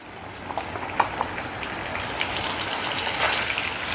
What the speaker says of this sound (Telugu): ఈ అల్లం వెల్లుల్లి పేస్ట్ను పచ్చివాసన పోయేంత వరకు వేపుకుందాం